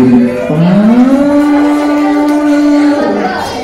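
A loud siren holds a steady wailing tone for about three seconds, with a brief dip and rise at the start and a drop at the end; no talking.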